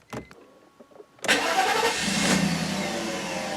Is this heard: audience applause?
no